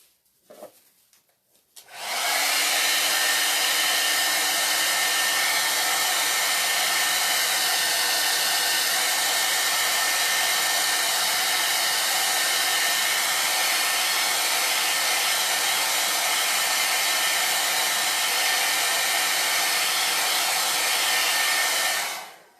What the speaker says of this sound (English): Let me blow dry him.